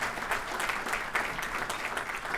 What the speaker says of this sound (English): Give her a big round of applause also